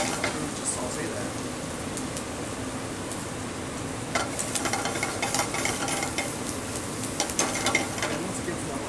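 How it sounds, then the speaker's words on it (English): Shallots sautéing in a pan, a steady broad sizzle with clusters of stirring clatter that grow busier in the second half, with faint talk underneath. "Just saute that."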